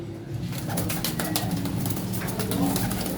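Pigeons, including banded and crested fancy breeds kept for sale, coo steadily and close by in repeated low throaty phrases, with no talk over them.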